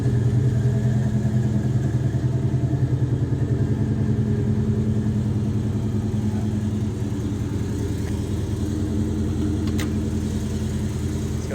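A 1970 Chevelle SS454 convertible with a four-speed idles after a cold start, its big V8 holding a loud, steady, close-up rumble with a fast, even lope throughout.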